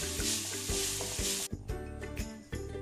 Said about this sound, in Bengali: গাজরটাকে আমি ঘিয়ের মধ্যে ফ্রাই করে নিয়েছি